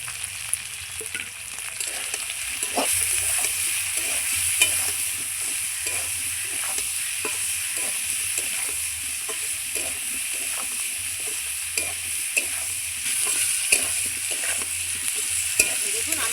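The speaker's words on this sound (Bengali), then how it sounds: "আলু ভাজা হয়ে গেছে লাল লাল করে" Potato pieces seasoned with salt and turmeric fry in a pan, producing an even, close sizzle punctuated by regular stirring scrapes and clacks for the whole stretch.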